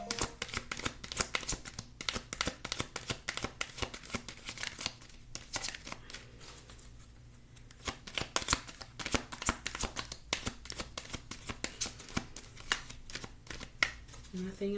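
Tarot cards are shuffled by hand at close range, with quick, continuous riffling and flicking that runs the whole time and stays soft and papery.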